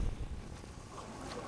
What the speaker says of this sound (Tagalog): Iikot yung bangka na to dahil ibabalasa yung tubig